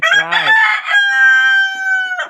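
A Fayoumi farm rooster lets out one loud, close crow that rises, holds as a long, bright call and then cuts off.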